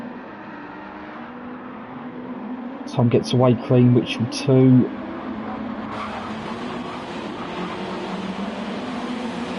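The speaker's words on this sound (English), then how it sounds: "Engine notes rise," GT1 race cars at the start of a racing video game on the Nordschleife, their engines a steady, continuous drone beneath an excited commentator who talks throughout.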